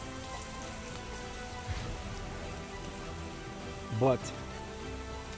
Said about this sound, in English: the sound of the rain in the forest and the sound of birds chirping